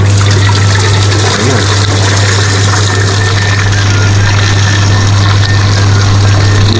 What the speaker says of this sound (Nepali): यसलाई टक्क तातो पानी नै हाल्छु कि यसमा